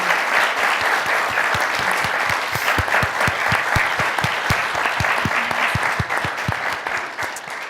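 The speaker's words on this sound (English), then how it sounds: "So I'd like to give them a round of applause if that's possible." A conference audience at a U.S.-Japan-Korea trilateral symposium on digital diplomacy claps together, a dense sustained round of applause with distinct sharp claps, fading slightly toward the end.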